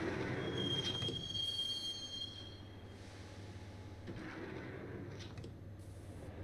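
A subway train rolls along in Max Payne, its wheels squealing on the rails in a long high whine over a steady low rumble, loud and close throughout with no one talking.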